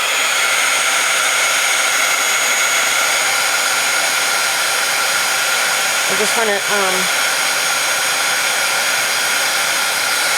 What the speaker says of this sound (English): I'm gonna have to dry this with the heat tool. I have the heat tool here, so it's gonna get loud.